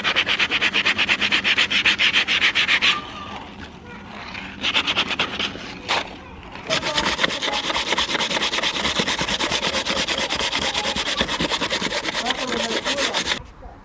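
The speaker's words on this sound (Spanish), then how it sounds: "Si se lija un poquito, lo que pasa es que tenemos el papel de lija" Sandpaper rubbed by hand over wood in quick back-and-forth strokes, a loud rhythmic rasping that pauses briefly around the middle, then resumes in a long steady run before stopping.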